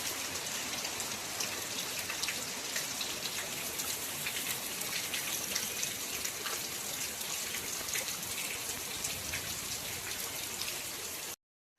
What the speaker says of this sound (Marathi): पाऊस आला मस्त आहे.